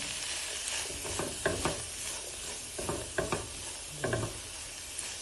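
Bacon sizzles steadily in a pan for fried rice, with several short scraping stirs of a utensil cutting through the frying hiss, close and moderately loud.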